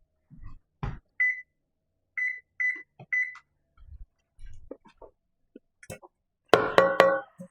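An oven being set to preheat, a series of short electronic beeps and key clicks spaced apart, ending in a louder cluster of tones, quiet and close with no voices.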